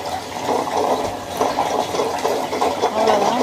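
A Butterfly Bloom Plus table-top wet grinder churns soaked rice into batter, a wet, sloshing rumble with a steady motor drone and rhythmic swishes as the stones turn, loud and close.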